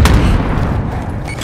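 Frag grenade going off in the Warzone video game on Rebirth Island, a loud booming blast at the very start followed by a rumbling tail that stays heavy throughout, with no talk over it.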